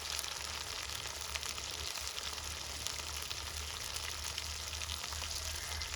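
Mutton fries in a pan for a village-style steamed mutton dish, with chopped onion, turmeric and chili powder added. A loud, steady sizzle holds evenly throughout with no voices.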